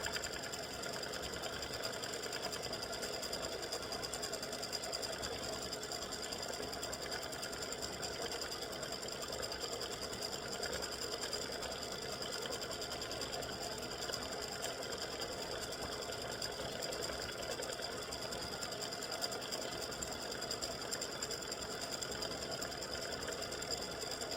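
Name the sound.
embroidery sewing machine stitching earrings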